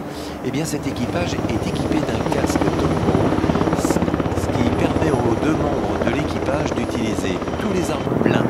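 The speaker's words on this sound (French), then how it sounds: "Si le Tigre c'est un hélicoptère multirôle" A Tiger attack helicopter flies at an air display, its steady loud rotor thump and turbine whine running continuously throughout, with a commentator talking over it on the loudspeaker.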